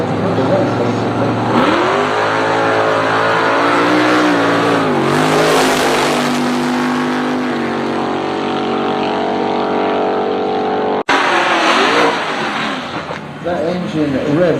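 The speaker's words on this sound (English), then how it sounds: "That engine revs so clean and so high." A no-prep drag racing car at Manston revs its engine hard and high, the pitch climbing and falling in loud, clean sweeps, then cutting out sharply before a second burst of revving.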